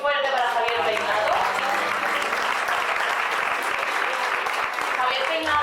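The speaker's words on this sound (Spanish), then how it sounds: "Un aplauso muy fuerte para Javier Peinado." Loud audience applause for artist Javier Peinado fills the whole stretch, dense and steady, with an announcer's voice and some cheering over the start.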